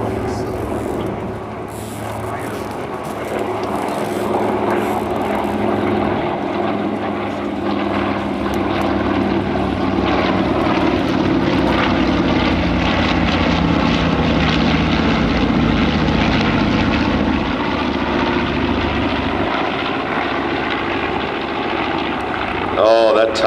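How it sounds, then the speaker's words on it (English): A B-25 bomber leading warbirds in a diamond formation at an airshow gives a loud, sustained piston-propeller drone that swells and holds as the formation passes, with an announcer talking over it. "Diamond formation with the B-25 in the lead from your right."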